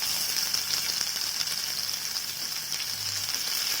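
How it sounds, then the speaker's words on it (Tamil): Sliced onions sauté in a pan for chutney with a steady, close sizzle and faint stirring scrapes, constant and unbroken for a few seconds with no talking. "வெங்காயம் கொஞ்சம் பொன்னிறமாகட்டும், அது வரைக்கும் நல்லா வதக்கி விடலாம்"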